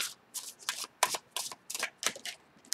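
Tarot cards being shuffled by hand in a quiet room, a series of crisp riffling bursts repeating in quick, uneven rhythm, close and fairly soft.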